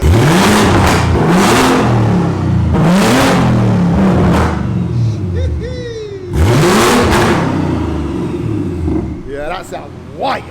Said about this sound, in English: Tommy, we're taking your dyno record